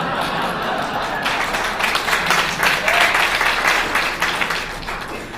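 Loud, enthusiastic clapping from an audience at a lecture on euthanasia, building to a dense roar of many hands before easing slightly, with scattered light laughter mixed in.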